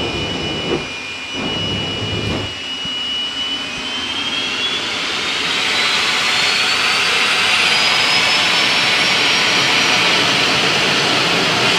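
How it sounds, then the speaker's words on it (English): Split Second, a jet dragster at Santa Pod, roars near and very loud, with a whining turbine tone rising in pitch as the thrust swells into a sustained blast, a few sharp pops early on. "Julian Webb brings split second, the jet dragster up to the start line"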